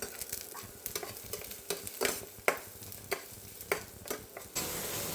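Maggi noodles cook while paneer fries in a pan, giving a steady sizzle broken by repeated sharp scrapes and clacks of a utensil stirring at an irregular pace, with no talking.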